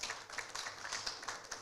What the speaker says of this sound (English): Please give him a hand clap.